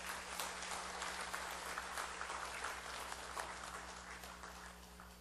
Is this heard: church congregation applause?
yes